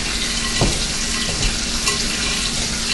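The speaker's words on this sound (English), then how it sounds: "toss these dry ingredients around here" Dry broccoli salad ingredients, including chopped onion, tossed and stirred in a bowl, making a steady close rustling with a few soft knocks against the bowl.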